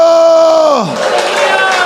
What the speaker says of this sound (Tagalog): Palakpakan may kasamang hiyawan. Mas malakas pa.